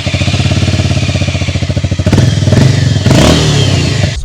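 A Harley-Davidson X440 T motorcycle engine runs close by, a loud rhythmic thumping idle that gives way to a couple of brief revs before cutting off, with no voices.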